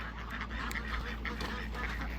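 Ducks and geese quacking and honking in a farm duck pond enclosure as they crowd up a ramp into the pond house, a steady chatter of bird calls at close range with no talk.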